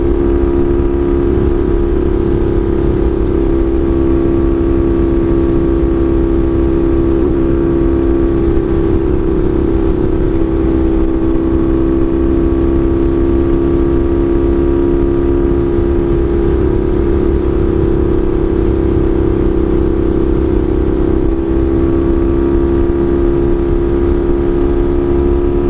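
A Honda Magna motorcycle engine roars steadily and loudly while riding on a Pennsylvania highway, a constant droning hum with heavy wind rush throughout, no voices.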